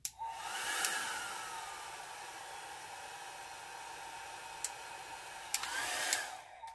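A hair dryer blows steadily on an alcohol ink flower painting, a loud, even whooshing hum held close for several seconds with a few brief clicks and bumps near the start and end.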